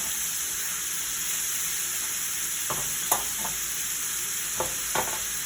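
Pasta frying in oil in a pan for Cincinnati chili, a continuous sizzle with several clinking stirs toward the end, close and unaccompanied by speech.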